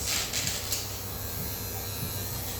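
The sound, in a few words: electric pet clippers with clip-on comb grooming a Shih Tzu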